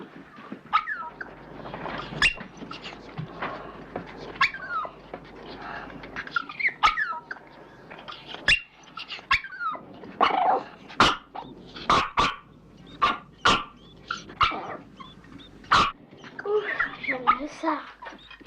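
A dog barks repeatedly in sharp, uneven bursts and growls between them, while children's voices talk alongside.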